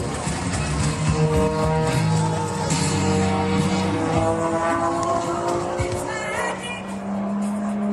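Ethanol-powered all-composite MX2 aerobatic plane at the Reno Air Races, its engine droning loud and near with rising and falling pitch sweeps as it climbs and tumbles, amid faint background commentary.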